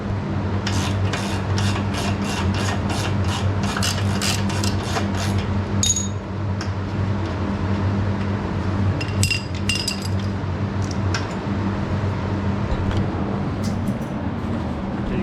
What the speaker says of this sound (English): Then you take 11/16 and a 3/4, take the nut off.